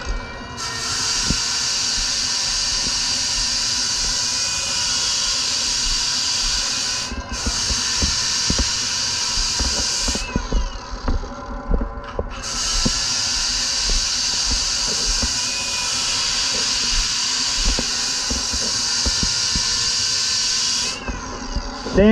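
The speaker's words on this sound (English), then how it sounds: "Now I just got to take the rail down a little bit more. I'll use the sander to do this." A power sander shapes the rail of a surfboard, giving a steady, close whirring hiss that runs in long passes broken by short pauses.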